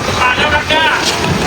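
Strong gusting wind outdoors ahead of a storm with rain about to start, buffeting the microphone in a rough rumble under someone talking.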